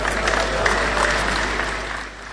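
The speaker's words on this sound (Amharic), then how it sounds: "አጨብጭቡ።" A church congregation clapping together in a hall, a dense, steady wash of applause that holds level and then fades slightly toward the end.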